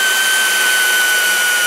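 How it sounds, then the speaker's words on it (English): A handheld power drill with interchangeable head attachments runs at a steady, loud, high-pitched whine, sounding close and unbroken throughout. "Guys, check this drill out here. This thing is pretty phenomenal."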